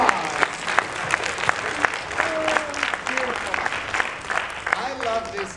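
Applause from an acting workshop audience at an anime convention, steady clapping with scattered sharp claps and a voice or two speaking over it, fairly close.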